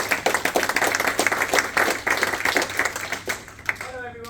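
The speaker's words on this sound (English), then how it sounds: "So give him a warm round of applause." An audience at a tech event gives a warm round of applause, dense and close. The clapping is steady for about four seconds, then thins out as a voice begins to speak.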